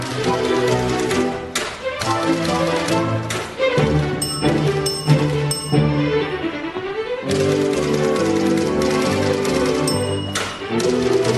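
A musical tribute piece to the typewriter plays, orchestral music with sharp rhythmic clacks and a carriage bell ding woven in, loud and continuous without talk.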